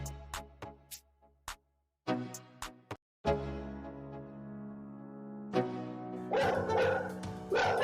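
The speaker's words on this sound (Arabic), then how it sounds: "الكلبين دول بيحاولوا يخوفوا الولد ده لحد ما خرج الكلب صاحبه ويدافع عنه" Two dogs bark aggressively to scare a small boy outside a house, a burst of loud, sharp barks and yips in uneven rhythm, close to the microphone with no talk.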